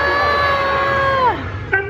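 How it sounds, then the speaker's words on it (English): A crowd at a Magic Kingdom show shouts together in one loud, rising group cry that swells and then drops off, and a short burst of voices follows. "Everybody shouted whoop-a-dee-doo."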